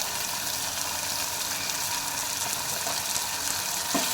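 Mustard seeds sizzle and crackle steadily in hot oil in a pan while a Rayalaseema-style buttermilk curry is being cooked, a continuous bright frying hiss heard close up and alone.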